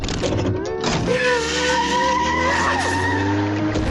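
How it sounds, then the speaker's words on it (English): A cartoon boat driven recklessly skids and screeches, a near, loud squealing slide with wavering tones over an engine rumble, lasting a few seconds with a brief buildup at the start. "He tears through the boating school and runs amok, recklessly driving his boat around."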